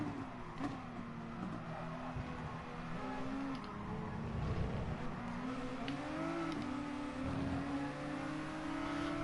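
Racing car engine in Gran Turismo Sport drones steadily throughout, with rising and falling revs and occasional tyre squeal as the car is driven hard, no talking.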